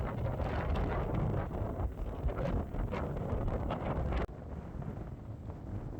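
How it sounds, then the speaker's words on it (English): Strong wind buffets the microphone in a steady, loud roar beside a rough, choppy sea at Whitby, dropping slightly in force near the end. "Very windy and the sea's very rough today"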